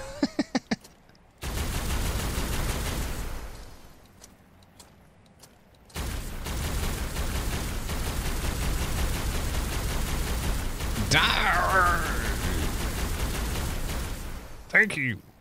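Sustained heavy gunfire in the modded video game ARK: Aberration, a dense continuous barrage lasting most of the stretch with a short lull, loud and close, mixed with game creature sounds.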